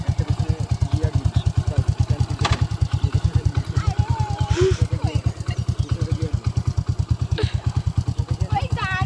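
A KTM motorcycle, just started, idles with a steady rapid thumping close by while people talk over it.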